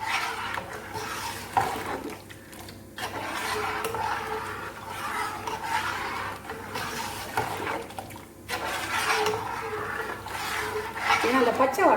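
A spoon stirs urad dal porridge (ulundhu kanji) in a pot over low heat, giving repeated scraping and sloshing strokes in a steady rhythm, with someone talking over it.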